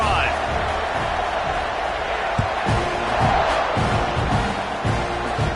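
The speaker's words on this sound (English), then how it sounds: "this crowd is feeling themselves after that last drive" Football stadium crowd at an NCAA game roaring steadily after a touchdown drive and extra point, a dense, loud wash of cheering and shouts that persists throughout, with a commentator's voice over it.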